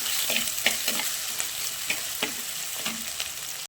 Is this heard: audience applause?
no